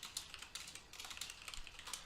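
Computer keyboard typing during 3D software work: a brisk, irregular run of close, light key clicks with no one speaking.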